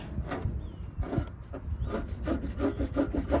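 Knife blade sharpened on a whetstone: steady, gritty scraping strokes pushed forward and drawn back in a regular rhythm, close and fairly loud with no talking.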